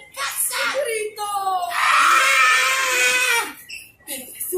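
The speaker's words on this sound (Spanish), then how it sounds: "¡Grito!" A woman's prolonged, shrill scream rings out loud and close for more than a second, with shorter vocal cries and sounds before and after it in a dramatic spoken story.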